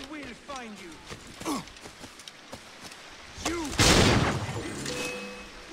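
Shotgun blasts in Assassin's Creed 4 Freedom Cry ring out amid a character's voiced grunts and sighs, with one loud, broad burst near the end followed by a lingering tail.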